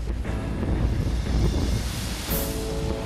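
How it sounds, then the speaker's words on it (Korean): Rough open-sea waves and gusting wind buffet a fishing boat heading far offshore off Suncheon in weather worse than forecast, a steady, dense wash of water and wind noise with no voices. "먼 바다로 갈수록 파도가 거칠어지는 상황"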